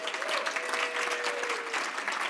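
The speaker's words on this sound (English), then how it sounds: "Round of applause for Stephanie." Warm applause from a conference audience, a brief burst of dense clapping that holds steady for a couple of seconds, with a faint tone lingering in the room.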